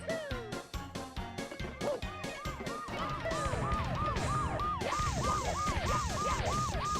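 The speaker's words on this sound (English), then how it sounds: "The siren is just so good." A wailing siren rises and falls in quick repeated cycles over a busy, pounding game music track, loud and continuous.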